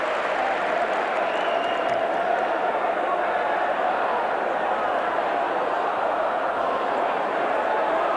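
A stadium crowd at a Wigan versus Bradford rugby league cup semi-final roars and cheers continuously, a broad sustained swell of noise with a commentator's voice running over it.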